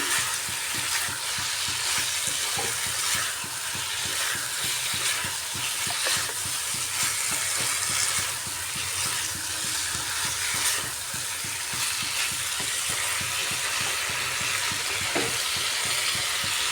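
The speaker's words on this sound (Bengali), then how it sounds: "আলু ফুলকপিটা মশলাটার সাথে আরও কিছুক্ষণ কষিয়ে নিচ্ছি" Potato and cauliflower being stir-fried with spices in a pan, a steady loud sizzle and frying hiss with constant scraping and stirring strokes throughout, close up and with no voices.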